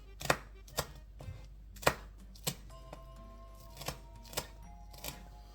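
Green onion chopped with a knife on a board, a series of about ten sharp, separate thuds at an uneven pace, close and fairly clear over a low background hum.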